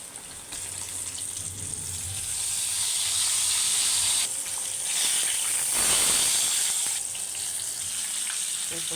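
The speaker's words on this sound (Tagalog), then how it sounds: "Dito fry na yan. Add lang tayo ng reuse oil." Pieces of chicken frying in reused cooking oil, a steady broadband sizzle and hiss that swells and fades over several seconds, close and fairly loud with no voices.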